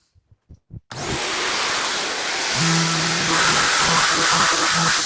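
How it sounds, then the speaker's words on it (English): Steady, loud broadband grinding of a power sander shaping a wooden template held in a vise, continuous after a few brief knocks at the start. "start sanding the profile that I like."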